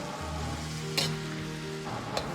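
Shiitake mushrooms and eggs stir-fry in a wok with seasonings, making a continuous close sizzle with a couple of sharp scraping clacks from the spatula and a faint low hum beneath.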